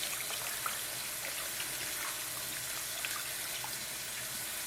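Water is poured into a pot of stuffed pepper stew, giving a steady, continuous splashing hiss that stays at an even level from start to finish with no talking.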